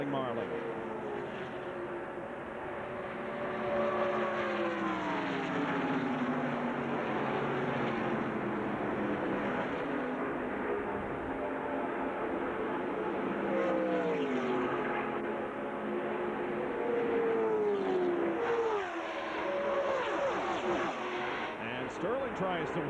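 Race cars roaring at the 1996 Winston Select 500, a NASCAR stock car event, with engine drones rising and falling in pitch through the draft over steady crowd-level noise, under continuous commentary.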